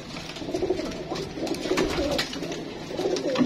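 Pigeons in a kept flock coo softly and continuously at close range, with low, overlapping throaty calls and no other prominent sounds.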